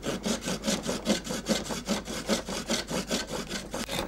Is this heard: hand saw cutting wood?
yes